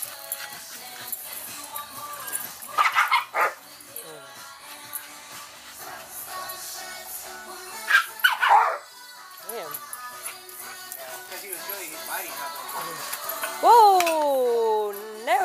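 A dog barks and yips in short bursts with whimpering whines near the end, amid ongoing background noise and a voice in a yard.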